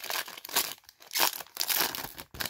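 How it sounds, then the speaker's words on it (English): Crinkling and tearing of a 2020 Topps baseball card pack wrapper from a jumbo box, a close, continuous rustle in uneven bursts with no talking. "This is first time opening 2020 cards."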